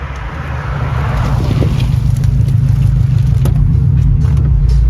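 A Subaru car heading to a Japanese-car meet, heard from inside as a loud, steady low engine and road rumble that continues without a break.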